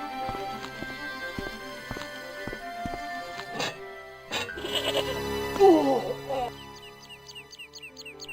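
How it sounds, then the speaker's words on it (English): A tethered goat lets out a wavering bleat midway through, after a run of regular knocking steps and a low background drone, all fairly close and moderately loud. "This goddamn goat."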